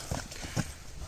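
A horse's hooves strike the ground in a few soft, uneven thuds at close range, with faint background noise.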